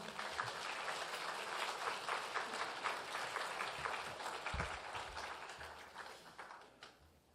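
A Sunday church congregation gives a big round of applause welcoming guests from Seoul; full, continuous clapping from a roomful of people, steady for several seconds before tapering off toward the end.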